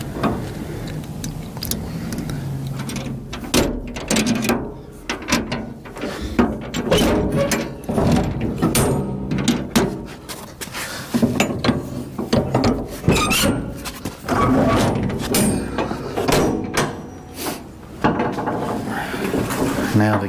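A vehicle door mechanism rattles and clunks while someone opens and works it, giving repeated metallic knocks, ratchet-like clicks and scrapes close up for about twenty seconds. A person speaks now and then.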